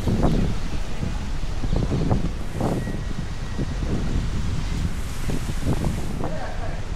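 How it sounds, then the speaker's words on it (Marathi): A strong stormy wind roars and buffets steadily and loudly throughout, with gusting rumbles and rustling close to the microphone. "वादर वारा सुटलाय र, वाऱ्यानं तुफान उठलाय र ग बाई।"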